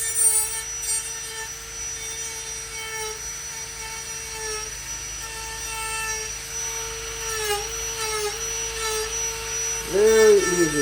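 A die grinder fitted with a dovetail Saburrtooth burr spinning at high speed, a sustained close whine whose pitch dips as the burr bites into the work, with a louder grinding surge at the end.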